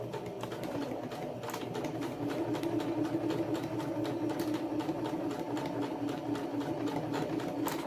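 A sewing machine stitches across overlapped fabric tabs, a continuous moderate whir with a rapid needle pulse running the whole time, fairly close, with no voices.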